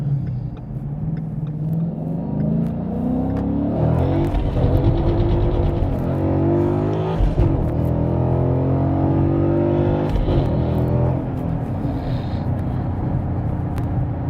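A 2015-2023 Ford Mustang GT with a Barton Industries short throw shifter accelerates on a road with aggressive shifts, its close, loud engine rumble rising in pitch, dipping at the gear changes, then climbing again.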